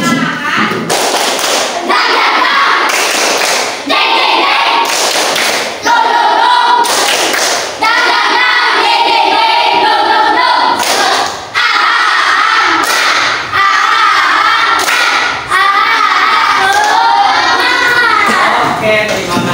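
A classroom group of primary school pupils does a rhythmic spirit clap. Loud, sharp bursts of group clapping repeat in a patterned beat, mixed with chanting children's voices.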